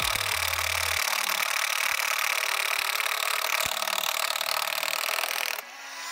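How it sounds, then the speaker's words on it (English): A large impact gun works loose a 22 mm bolt on a BMW N55 inline-six engine, giving a loud, continuous, grinding mechanical roar for several seconds before it cuts off, with no talking. "I'm going to hope the big old impact gun will loosen it for us."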